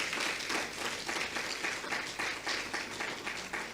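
A crowd applauding steadily at an awards ceremony, many hands clapping in a dense, sustained patter at moderate distance, no voices over it.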